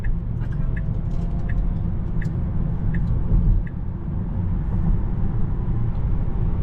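A 2024 Tesla Model 3 driving at night, heard from inside as a steady low road rumble with faint intermittent high ticks and a brief swell midway.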